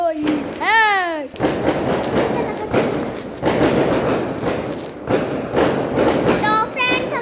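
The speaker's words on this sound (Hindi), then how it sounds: "अरे वहाँ पे पटाखे चल रहे हैं बहुत ज्यादा।" Firecrackers bursting outdoors during a celebration, heavy thumping blasts with rising and falling whistles from rockets, loud and continuous throughout with dense crackle in between.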